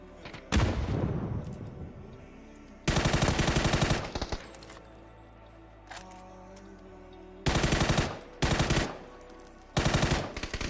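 PUBG video game gunfire sounds in several loud bursts of rapid automatic shots, separated by quieter gaps, with no talking.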